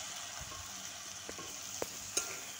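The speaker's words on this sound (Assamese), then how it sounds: "এতিয়া আৰু চব্জিখিনি লৰাই দিছোঁ" Taro and potatoes fry in a wok while being stirred, a faint steady sizzle broken by a few soft scrapes and clicks, with no talking.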